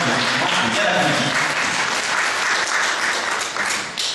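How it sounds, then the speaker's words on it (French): An audience applauds a young civic volunteer named Guillaume at a public meeting, a dense, steady wash of clapping that holds loud for about four seconds with faint voices mixed in. "je voudrais quand même que vous applaudissiez notre ami Guillaume"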